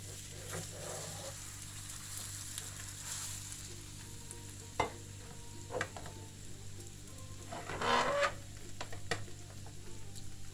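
Soft, steady sizzling of a gözleme flatbread with egg frying in a lightly oiled pan, with occasional clicks and scrapes of a utensil and a brief louder crackle near the end.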